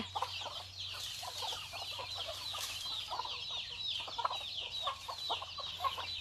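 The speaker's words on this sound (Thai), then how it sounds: "ไก่กำลังมากิน ข้าวที่น้องไอดินเลี้ยงเนาะเยอะเลยอ่ะ" A flock of chickens clucks and chatters steadily while eating rice, many birds close by, with a low constant hum underneath.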